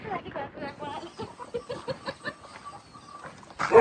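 Chickens in a poultry shed housing several thousand birds cluck intermittently in the background, partly masked by a person talking over them, with a louder burst near the end.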